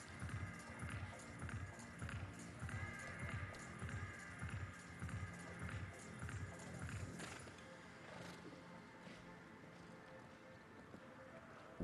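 Horse galloping at a youth international show jumping competition, with rhythmic hoofbeats pounding steadily throughout at close range, fading slightly toward the end.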